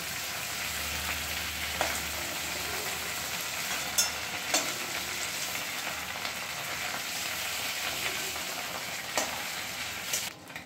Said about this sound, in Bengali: এবার আমরা কড়াইয়ের তেলের মধ্যে আগে বেটে রাখা মশলাটা দিয়ে দিচ্ছি।